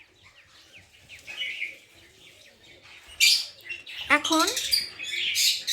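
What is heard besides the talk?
pet lovebirds chirping in the evening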